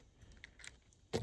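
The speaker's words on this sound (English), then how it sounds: "So if we take this key and insert it here," A key slides into a Kwikset doorknob lock with a short metallic jangle and click, close and brief, following faint small rattles.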